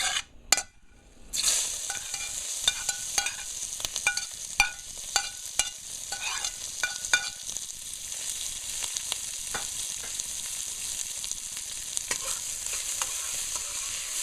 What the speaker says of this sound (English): So the oil is hot, and I'll be adding in the seasoning.